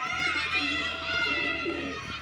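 A pigeon being held in the hand coos softly in a steady, continuous murmur, close by, with no voices over it.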